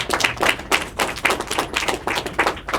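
A small group claps at a school board meeting, a brief round of brisk, fairly close hand claps in an uneven rhythm that fades without building into full applause.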